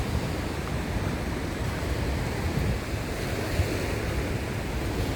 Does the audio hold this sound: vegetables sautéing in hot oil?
no